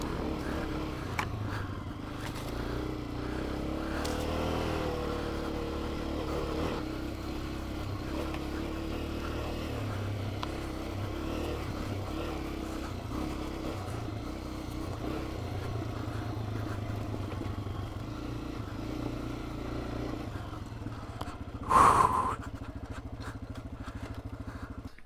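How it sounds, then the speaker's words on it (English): A Honda CRF300F trail bike is ridden on a trail, its engine droning steadily and fairly close, with a brief louder burst near the end. "What a great trail bike."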